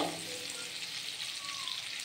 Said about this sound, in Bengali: আর দিয়ে দিলাম একটু জিরে ফোড়ন।